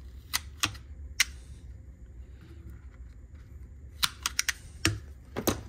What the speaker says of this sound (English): So I'll go ahead and just trim them a little bit here with a wire stripper.